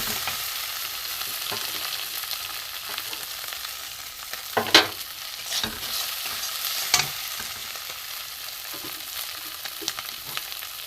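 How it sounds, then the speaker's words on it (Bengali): Spices and onion stirred in a frying pan for a Bengali fish oil curry: a soft steady sizzle with scattered scraping clicks from the spoon, a few sharper knocks standing out, no voices. "এবার আমি একটু একটু ভালো করে নাড়ি"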